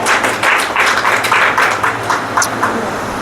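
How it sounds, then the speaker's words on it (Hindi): A church congregation at a Sunday meeting claps together in praise, a burst of rhythmic, fairly loud hand claps that swells and then thins out over a few seconds. "आप प्रभु के महिमा के लिए ताली बजा सकते हैं।"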